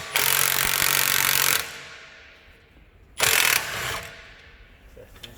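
A ratchet clicks rapidly in two bursts while the top nut of a Holden Commodore front shock absorber is undone, loud and close, with a pause between them and a faint tail of mechanical rattle.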